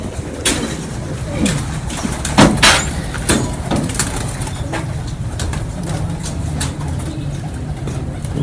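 Breeder pigeons in a loft coo softly and repeatedly at close range, low murmuring calls over a muffled background, punctuated by sharp clicks and rustles of birds being handled.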